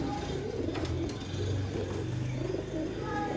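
Soft, low cooing of domestic pigeons repeats under steady background noise, with a faint higher chirp now and then.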